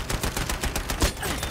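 Rapid, steady gunfire in the Battlefield V World War II shooter: a dense run of close, loud shots firing in quick succession with no voices over it.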